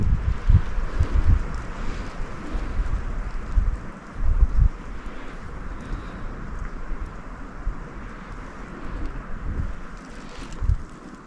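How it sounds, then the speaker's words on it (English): Strong wind gusts through the Aokigahara forest, a steady broad rush with low buffeting rumbles from gusts hitting the microphone, continuous throughout with no talking. "It's really windy today."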